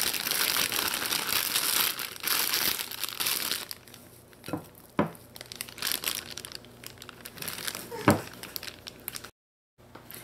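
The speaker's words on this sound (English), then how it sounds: "I'm actually going to transfer this mixture into a bag with a piping tip." A potato mixture being scooped and pushed into a plastic piping bag fitted with a tip, with crinkling and rustling of the plastic, louder at first and then in short bursts with soft thuds, close up.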